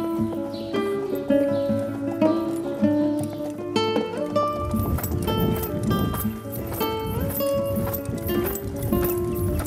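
Horses on an exercise track at a polo facility, hooves clip-clopping in steady rhythm over continuous tonal music, with a possible faint whinny.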